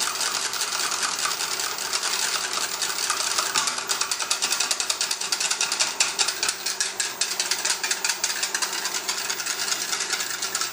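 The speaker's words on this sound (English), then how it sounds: "So whisk all this together." Rapid, steady whisking of a Karo corn syrup mixture in a pan, a dense metallic scraping and clattering that continues without pause, close by.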